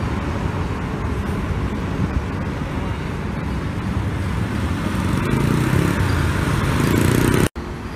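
A bus rolls past on a toll road exit ramp at Bawen, its loud broad roar swelling over steady traffic noise before cutting off abruptly near the end, with people talking nearby.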